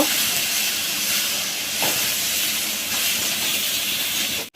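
Spices with salt and turmeric fry for a dried-fish (shutki) dish, giving a steady, close, even hiss and sizzle that holds for several seconds before cutting off abruptly at the end.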